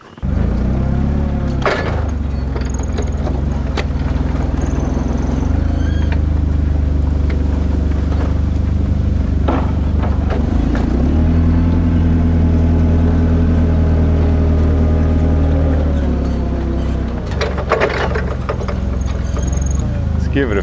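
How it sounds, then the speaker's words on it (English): Forklift engine at a sawmill runs loud and steady throughout, its low rumble rising and falling as the machine bumps a log straight, with occasional clanks and knocks over the drone. "So I need to bump it a few times with a forklift and get it straight."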